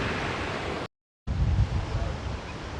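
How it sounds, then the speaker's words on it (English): A waterfall cascades into a far pool at a hotel in Majorca, heard as a broad, steady rush of water. It is interrupted by a brief total dropout, then resumes slightly louder and rougher. "the waterfall cascading down a further pool on the far side"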